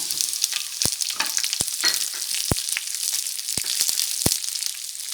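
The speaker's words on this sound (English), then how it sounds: "Let it fry for 2 minutes." Chopped chilies and onions frying in hot oil with garlic for paneer manchurian, a steady close sizzle throughout with occasional sharp clicks of a utensil against the pan, no talking.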